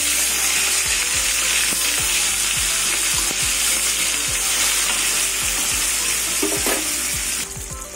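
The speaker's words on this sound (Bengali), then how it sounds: "মাছ একদিকে ভাজা হয়ে গেছে," Turned fish pieces crackle in hot oil with a close, loud, steady sizzle and constant small pops, easing slightly at the very end.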